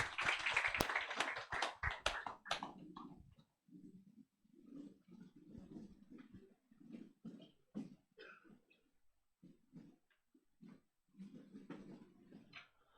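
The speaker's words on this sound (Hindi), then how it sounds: "ताली बजाते अपने स्थान को ग्रहण करें" Church congregation clapping during a Sunday service, a dense burst of hand claps for the first few seconds that quickly thins out, followed by scattered low murmuring and shuffling.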